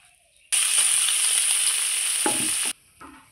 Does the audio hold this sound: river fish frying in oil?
yes